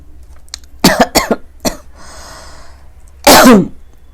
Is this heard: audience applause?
no